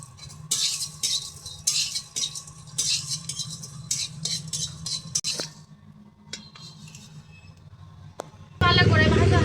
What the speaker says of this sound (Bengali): গোটা ধনে, দারুচিনি, গোটা জিরে সেটাই ভেজে নেব।